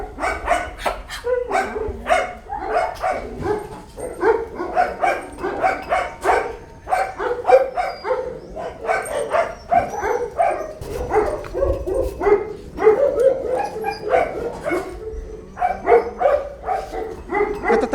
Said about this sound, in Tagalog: Nagpunta ako sa asuhan upang kamustahin ang aking mga aso.